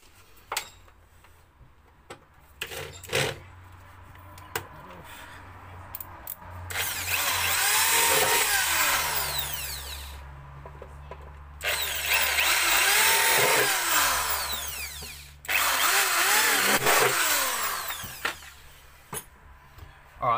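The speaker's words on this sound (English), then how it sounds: "So I'll quickly drill them" A power drill drills holes in three sustained bursts of several seconds each, during an intake and battery relocation install on a Ford BA/BF, separated by short pauses and light clicks and handling noises.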